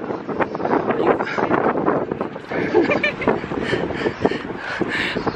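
Gusty wind buffets a camera microphone outdoors on a trip to Legnica, Poland, giving a loud, continuous rumbling roar that fills the whole clip, with a voice faintly mixed in.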